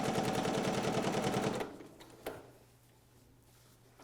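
A sewing machine runs in a rapid, loud mechanical stitching rhythm while quilting a small quilt, stopping abruptly after about a second and a half, followed by a single clack and a quiet steady hum.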